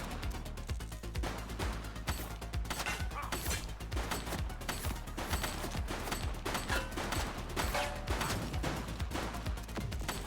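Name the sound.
gunshots in The Precinct video game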